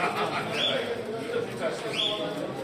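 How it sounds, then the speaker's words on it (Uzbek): Soft pigeon coos repeat a couple of times close by, low and rounded, over a murmuring background with a thin whistle-like call rising above. "kaptarlar."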